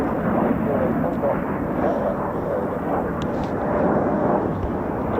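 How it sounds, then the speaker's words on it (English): An F-35B Lightning stealth jet comes down in a vertical landing, a steady, loud, broadband roar that holds without letting up, with no voices over it. "vertical landings coming up"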